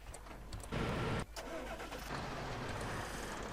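A Fendt 820 tractor engine cranks with a loud starter whir, catches with a burst, then settles into a steady rumbling diesel idle, close and alone.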